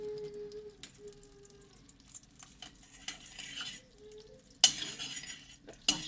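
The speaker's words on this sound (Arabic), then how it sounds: "وراح نحط زيت زيتون، ونستنى شوي لغاية ما يحمر" Olive oil heats in a pan while a utensil stirs and scrapes against the metal, soft faint sizzling broken by clinks and a couple of louder sharp clatters, with no voices.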